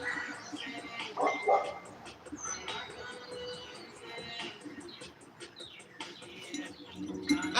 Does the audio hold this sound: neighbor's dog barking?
yes